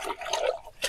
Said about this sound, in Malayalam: നന്നായിട്ട് കഴുകണം, നല്ലോണം മണ്ണുണ്ട്